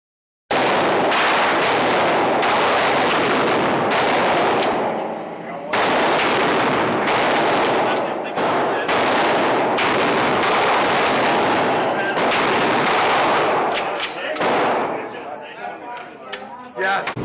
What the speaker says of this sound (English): that was me shooting a shotgun